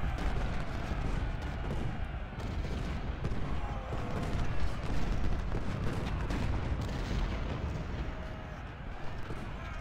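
Civil War artillery rumbles in a battle of the strategy game Ultimate General: Civil War, a dense, continuous wash of booming cannon fire and distant musketry rolling on without pause at moderate loudness.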